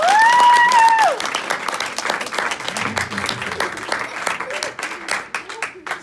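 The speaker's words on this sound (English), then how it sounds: "Ladies and gentlemen, give him a big round of applause." Audience applause at a hypnosis show, a dense spread of clapping that runs for several seconds with a brief tonal sound at the start and stays fairly loud throughout.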